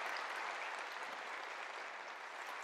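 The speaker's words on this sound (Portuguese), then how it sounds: "Vamos dar uma salva de palmas a essa palavra maravilhosa." A Catholic congregation at a Pentecost gathering applauds together, a steady dense wash of clapping that holds evenly across the moment with no voices standing out.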